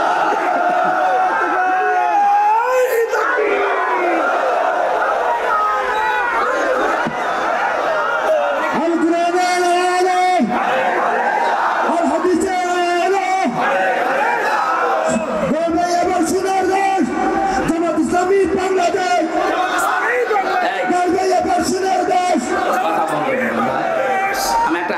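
A large crowd at an Islamic sermon (waz) given by Mufti Amir Hamza answers the call for takbir with loud, sustained massed shouting and whoops that rise and fall in several waves across the whole stretch.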